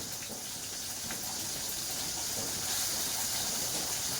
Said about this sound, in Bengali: মাথা ভাজা হচ্ছে